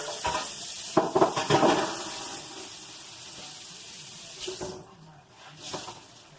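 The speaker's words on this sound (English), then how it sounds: "wash my hands." Hands being washed under a running kitchen sink tap, with steady close water flow, a few knocks and clatters of dishes near the start, and the stream fading near the end.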